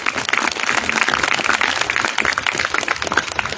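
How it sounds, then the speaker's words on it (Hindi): An audience at a yoga event breaks into sustained applause for a speaker, dense continuous clapping from many hands filling the space at a steady loud level. "सर के लिए एक बार जोरदार तालियां।"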